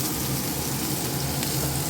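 Katla fish frying in mustard oil in a pan, a steady dense sizzle and crackle held close and loud throughout, with no voices.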